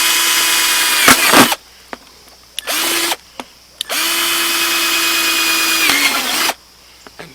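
A small battery-powered drill bores holes in a plastic container for a homemade fish pond filter, with several close, loud high-pitched whirring bursts of differing length separated by short pauses.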